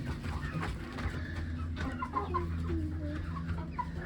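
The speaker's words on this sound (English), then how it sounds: "I think this is a golden laced Wyandotte." Golden laced Wyandotte chickens on a farm cluck and murmur continuously at close range, several birds making soft overlapping calls against a low background hum.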